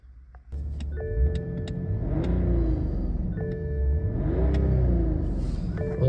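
A chip-tuned BMW E90 engine revving hard, close and loud, a deep rumbling roar that rises and falls in two strong pulls with whining tones over the top.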